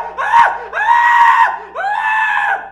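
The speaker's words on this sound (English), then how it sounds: "Their screams all started to blend together after a while." Several screams from people in a violent city film scene, loud and close, coming in three sustained high-pitched bursts with short breaks between them.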